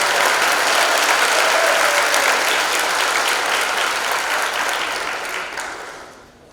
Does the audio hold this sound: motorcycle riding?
no